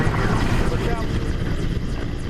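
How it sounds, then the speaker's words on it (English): The steady, throbbing drone of a helicopter fills the air while a voice talks over it. "A helicopter arrives"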